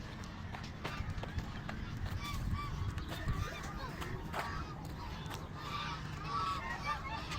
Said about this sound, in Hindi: डी फॉर डक मीन्स बतख।